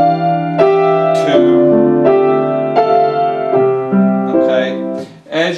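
Piano playing a minor-chord substitution progression: a series of sustained chords struck one after another at a slow, even pace, loud and clear with no talking.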